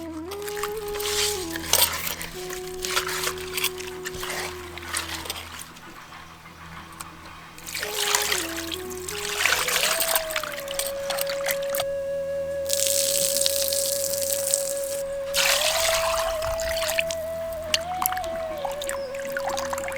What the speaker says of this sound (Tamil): உப்பு, மஞ்சள் தூள் ரெண்டையும் சேர்த்து இப்ப மீனை நல்லா கழுவ ஆரம்பிச்சிடலாம்